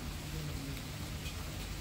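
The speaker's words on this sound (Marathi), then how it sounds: "पाऊस चालूच आहे, झड लागली" Steady monsoon rain falls outdoors in an even, unbroken hiss, faint and continuous throughout with no voices.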